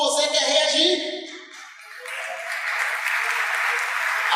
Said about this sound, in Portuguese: Aplaude Jesus, é a palavra dele.